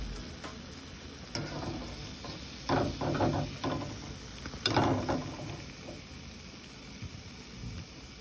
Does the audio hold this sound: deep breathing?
no